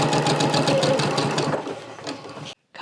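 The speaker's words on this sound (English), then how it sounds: "I'm going to start sewing on that. And then I'm just going to sew right down that line." A sewing machine stitches quilt binding, starting on leader fabric and running straight down a line, with a steady rapid mechanical whir and clatter that carries on loud and close for over two seconds before stopping abruptly.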